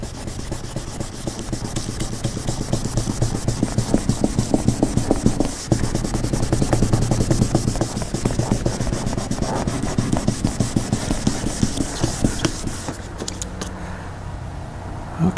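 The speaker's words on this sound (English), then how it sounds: "So sand until it's nice and smooth." Hand sanding the paint on a Chrysler Crossfire, a loud close rhythmic scrubbing of rapid back-and-forth strokes that runs steadily for most of the time, then slows and fades near the end.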